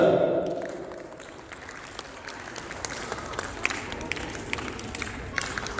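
An audience at a Pakistan Day gathering breaks into dense, sustained applause, loudest at the start and then settling into a steady, even patter of many hands clapping.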